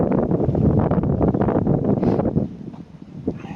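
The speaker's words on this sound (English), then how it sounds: "It's a little windy today." Heavy wind buffeting a microphone beside a BMW CE 04 electric scooter, a low rumbling roar that gusts strongly, eases briefly, then surges again.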